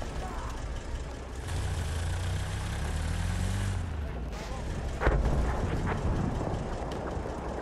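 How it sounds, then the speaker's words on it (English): A tank in the Battlefield 1 video game rumbles with a heavy, continuous engine drone. A sharp blast cuts in midway, and a voice can be heard over the mechanical noise. "That's a tank!"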